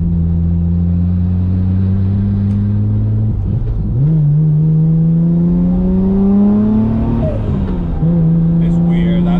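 Nissan R34 GTR engine pulling hard from inside the car, its droning tone climbing steadily, dipping at two gear changes and rising again, loud and continuous for the whole stretch.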